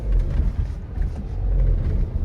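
Diesel engine of a Tata Altroz shuddering close to stalling just after the clutch is released: a close, steady low rumble with slight uneven pulsing and no voices.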